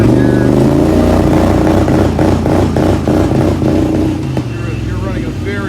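A Kawasaki Brute Force 750 ATV engine in limp mode is revved in neutral, a loud, steady engine drone with a few rising and falling rev pulses. Someone talks over it throughout.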